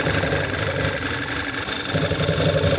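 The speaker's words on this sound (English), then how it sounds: "and the engine stalls even more." A Volkswagen Tiguan 2.0 TSI engine with a faulty crankcase ventilation valve idles roughly with an uneven, shaky rumble from misfires, steady and close throughout with no talking.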